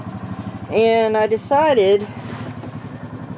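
An old beater car idles steadily in the background to warm up, a low even rumble running the whole time while someone talks over it.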